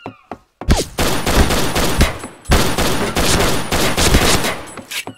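Rapid automatic gunfire in the video game Point Blank, loud dense bursts of shots with brief gaps between volleys, no talking.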